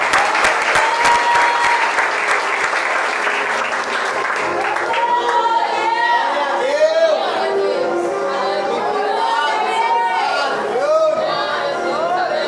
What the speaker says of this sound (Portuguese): Aplaude o Senhor nessa noite.